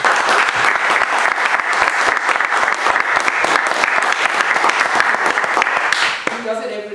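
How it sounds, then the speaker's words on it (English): A room full of people breaks into loud, dense applause that rolls on steadily for about six seconds, then quickly dies away as a voice starts talking. "if we could have an applause for him"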